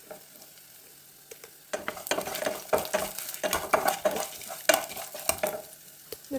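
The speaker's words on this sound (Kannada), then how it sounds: "ಸ್ವಲ್ಪ ಆಯಿಲಲ್ಲಿ 1 ನಿಮಿಷ ಚೆನ್ನಾಗಿ ಫ್ರೈ ಆದರೆ ಸಾಕು" Garlic and two dried red chilies fry in a little oil over a low flame, starting quiet and then breaking into a steady crackling sizzle with spatula stirring and light scrapes against the pan.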